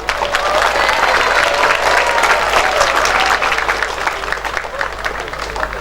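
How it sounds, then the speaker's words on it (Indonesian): A large crowd at a regional equivalency education jamboree in East Java claps loudly and steadily in a thick, sustained roar over a low background hum, fading a little near the end, with some voices underneath. "Tepuk tangan buat kita."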